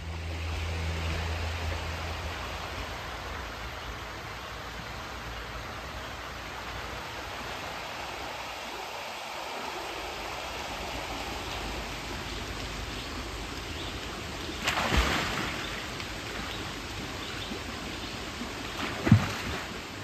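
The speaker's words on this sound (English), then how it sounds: "Dedicating time to listen to the birds and the running water" Continuous broadband rush of flowing river water, steady and fairly soft, with a couple of brief louder splashes near the end.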